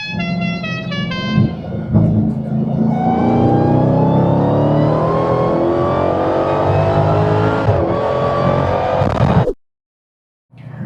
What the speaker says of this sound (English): I do like to get out and make a wide open throttle hit in it every time I take it out